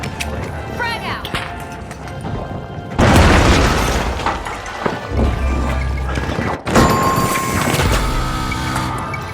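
Heavy booming blasts of grenade explosions in the online shooter The Finals, two big loud detonations separated by a few seconds, each followed by rumbling debris and clatter amid game noise.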